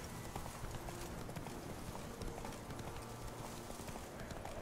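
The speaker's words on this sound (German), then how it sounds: "Mal drumherum um die Barrikade reiten." Horse hooves clip-clop steadily while riding around a barricade in The Witcher 3, a continuous rhythmic trot at moderate level over a dense game soundscape with no talk.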